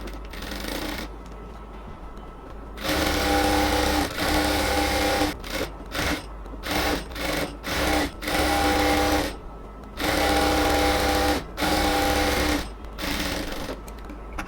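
Sewing machine stitching the legs of salwar pants from the bottom up, running in loud close bursts of rapid mechanical whirring and needle clatter broken by brief stops, with no talking.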